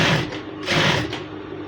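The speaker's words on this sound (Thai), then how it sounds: "อันนี้คือ การเย็บขอบ เย็บขอบนะครับ" A sewing machine stitches along the edge of soft fabric in two short, close whirring bursts of mechanical clatter.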